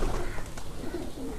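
Pigeons in Mianwali, Pakistan, coo in low, rolling, repeated calls close by, fairly loud and steady over a short stretch, with faint background voices.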